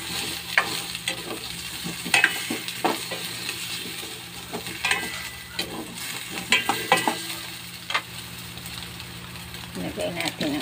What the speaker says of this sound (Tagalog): Igisa natin ang crab stick roll.